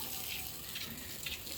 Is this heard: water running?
yes